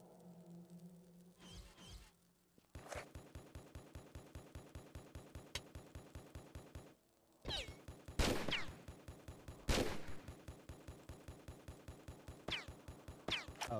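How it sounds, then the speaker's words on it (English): Soldiers shooting in Tomb Raider 4: a steady rapid run of machine-gun fire in evenly spaced shots, with a few louder, sharper blasts cutting through, fairly faint overall. "Who's shooting at me?"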